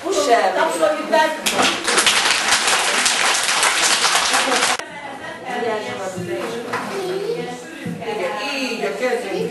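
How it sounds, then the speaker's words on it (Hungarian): Applause from a group, likely children, after a story is told at a Martinmas gathering: dense, loud clapping for about five seconds, then scattered claps and chatter with an adult voice talking. "Tapsoljuk be!"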